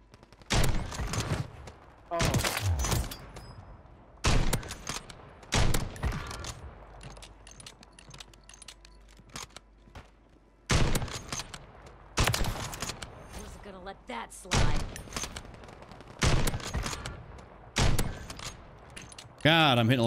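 Shots from a Glock pistol and Kar98k bolt-action rifle on Rebirth Island in Call of Duty Warzone ring out in separate loud bursts, spaced by quieter gaps, with a player talking in between.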